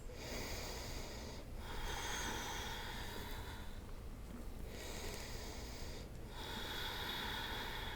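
A yoga practitioner breathes deeply and slowly, with long, steady, airy breaths separated by brief pauses, close and quiet.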